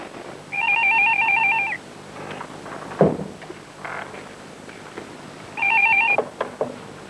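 An old landline telephone rings in two bursts in a 1994 PTV drama, with a quiet, roomy pause and a brief knock between the rings.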